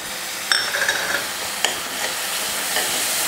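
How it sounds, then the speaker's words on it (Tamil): Curd stirred into a frying brinjal gravy in a pan, giving a steady hissing sizzle with a few soft scraping stir strokes, heard close and alone. "தயிரை போட்டு நல்லா கலந்து விட்டுருங்க"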